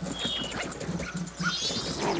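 A dog in the Zelda game Majora's Mask yelps and whimpers among busy game sounds, short rhythmic barks repeating under chirping, cluttered background effects.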